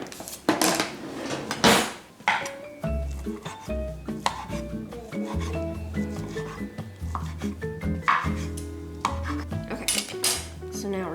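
A knife chops ham on a board in a home kitchen, giving a loud run of irregular sharp knocks and clatters of utensils and dishes, with no talk.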